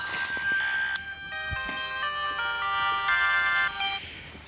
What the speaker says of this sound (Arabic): ايه تليفوني بيرن